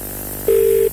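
A single steady telephone keypad tone sounds loud and close for about half a second after a quiet hiss, with no talking.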